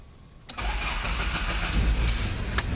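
A Toyota AE86 Kouki coupe engine cranks and catches after a quiet moment, then settles into a steady, close idle, with a brief click near the end.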